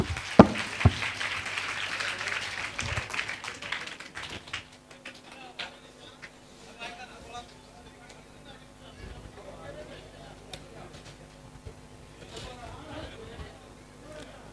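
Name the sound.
audience clapping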